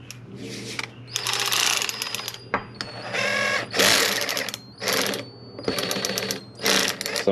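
A small Kimo electric ratchet with a fault in its gears whines in repeated bursts of a second or so, with brief pauses between them. The motor drone sits close and loud, and no voice is heard.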